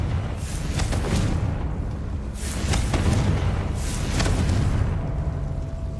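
Confringo blasting-spell explosions from Hogwarts Legacy come as repeated loud booms, roughly three or four rumbling bursts spaced about a second apart, with no talk.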